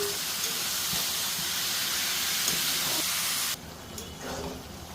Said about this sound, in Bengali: এবার আমি দিয়ে দিব এঁচড়গুলো।